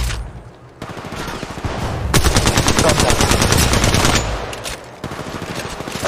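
Machine gun fire in the mobile video game Apex Legends Mobile rattles in loud, rapid sustained bursts of automatic shots, close and dominant, with brief pauses between bursts.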